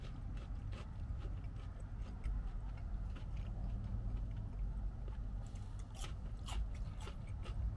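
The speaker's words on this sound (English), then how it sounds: "Churros are really already good. It has the crunch and it has softness in the middle." Someone chews a crunchy cinnamon churro from a Burger King meal. Soft, irregular crunches and clicks sound close by, quiet and steady, with no talking.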